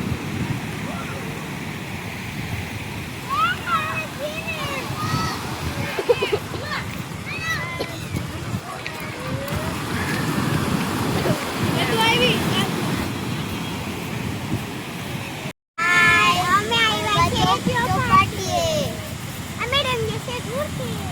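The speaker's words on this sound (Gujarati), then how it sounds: "જો અહીંયાથી એકદમ અવાજ આવે દરિયાનો" Sea waves wash onto Porbandar Chowpatty beach in a steady, broad roar with wind buffeting the microphone, while children and adults chatter and call out nearby throughout; a brief dropout breaks the sound near the end.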